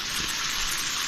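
Water pours steadily onto garden plants outdoors, a continuous hissing, splashing gush close by with no talking.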